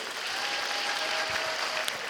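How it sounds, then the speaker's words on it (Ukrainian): Applause from an audience at a Ukrainian stand-up improv show, a steady wash of clapping for the whole stretch. "Оплески пану Олексію."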